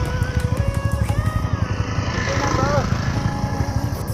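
A motorcycle engine throbs in a steady, rapid rhythm close by, running continuously with a faint voice briefly audible partway through.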